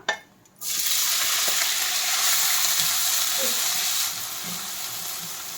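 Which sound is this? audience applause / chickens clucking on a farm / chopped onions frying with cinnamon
chopped onions frying with cinnamon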